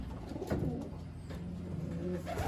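Young pigeons cooing on a loft landing board, soft throaty coos repeating close by over a steady background murmur.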